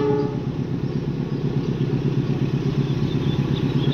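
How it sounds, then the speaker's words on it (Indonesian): A freight train locomotive approaches Ujungnegoro station in a steady, loud, close rumble with rhythmic clattering that runs the whole time, and nobody speaks. "Ini lokomotif"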